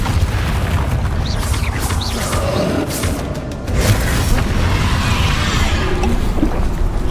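A Confringo spell explodes in the Hogwarts Legacy video game, a loud low boom with a rushing tail amid continuous battle noise.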